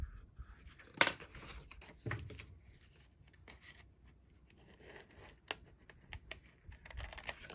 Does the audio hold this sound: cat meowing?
no